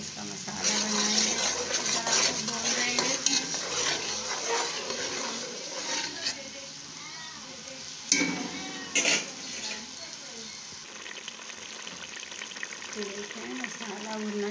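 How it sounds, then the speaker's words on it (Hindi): Masala with garlic-ginger paste frying in a pan, a steady soft sizzle broken by scraping stirs and a few utensil knocks, while someone talks throughout. "देखें, मसाला भुनना शुरू हो गया है"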